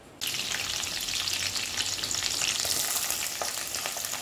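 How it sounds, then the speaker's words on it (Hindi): Potatoes frying in hot oil with a cumin and chili tempering, a steady, dense sizzle that starts abruptly and runs unbroken at close range, with no talk over it. "इसमें जीरा और मिर्ची का तड़का दे दूंगी, और ये बटाटा डाल दूंगी"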